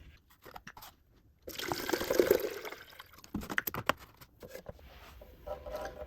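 Water splashes and trickles steadily for a few seconds as it is poured onto a hypertufa plant pot and overruns, with a few light clicks and taps before and after the pour.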